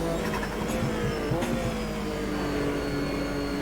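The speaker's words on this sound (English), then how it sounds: "We have a beautiful 6-cylinder engine underneath us, we have turbo whine and the chatter from the wastegates." Sustained mid-pitched drone of a turbocharged six-cylinder Group C racer in Automobilista 2, loud and steady, with short crackles of turbo and wastegate chatter early on, and no voices.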